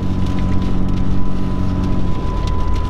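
Rain patters steadily on a Model A car while it drives toward Havasu, a constant close hiss of drops over low road rumble with a faint tonal hum.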